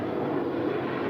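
Airplane taking off on runway 25 Right at LAX: a steady, broad engine roar holds at an even level throughout the short stretch, with no talk.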